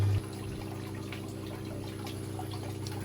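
Water trickling and splashing steadily from drilled holes in a filter in a fish tank, a soft continuous patter with a low pump hum underneath.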